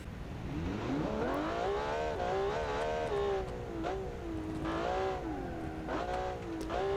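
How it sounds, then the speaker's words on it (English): A car engine in BeamNG.drive revs up and down repeatedly, its pitch climbing and falling with gear changes, with occasional faint clicks. "let's listen to the car first"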